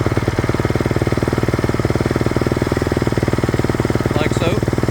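A Honda CRF450RWE motorcycle engine idles close by with a steady, rapid pulsing beat that holds even throughout, with a brief squeaky sound near the end.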